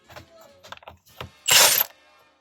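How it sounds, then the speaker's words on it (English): A ratchet wrench with a 21mm socket loosens the steering wheel bolt on a 2007–2013 GMC, giving a few quick clicks and then one loud, harsh burst of ratcheting close to the mic. "you have to get a wrench or the socket for a size 21mm."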